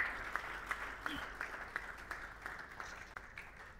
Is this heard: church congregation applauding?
yes